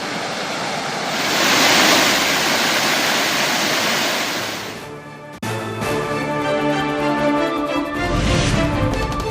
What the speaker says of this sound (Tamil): ஒகேனக்கலில் ஆர்ப்பரித்து கொட்டும் வெள்ளம்.